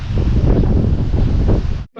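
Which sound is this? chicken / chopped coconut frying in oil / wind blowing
wind blowing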